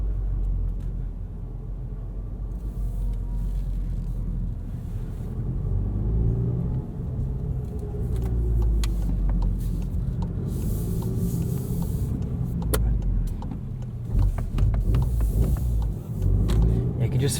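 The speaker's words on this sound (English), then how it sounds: "Just feel with just free revving the car how much better the throttle response is." A 2017 Volkswagen GTI Sport with six-speed manual, heard from inside the cabin, rumbles steadily through a low engine drone with rising swells as it is free-revved, while someone talks over it.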